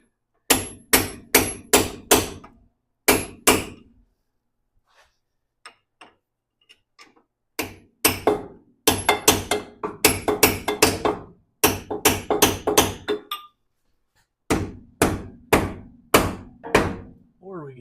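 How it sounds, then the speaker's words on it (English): Hammer striking a punch against a thin steel jacket on a car, loud close clanging blows in quick bursts of several strikes separated by short pauses, with faint quiet sounds between. "Big ol' punch and a big ol' hammer."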